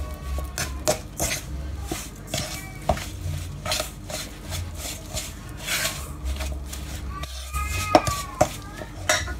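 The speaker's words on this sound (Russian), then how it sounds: "Также сюда всыпаем остальные наши ингредиенты. Перемешиваем." A spoon stirs coconut-banana dough ingredients in a bowl, with steady scraping and rubbing interrupted by light clinks against the bowl and occasional taps.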